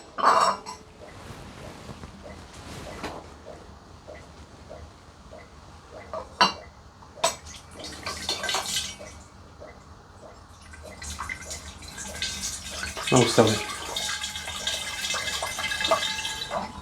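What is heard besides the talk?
apple juice poured and stirred into a glass demijohn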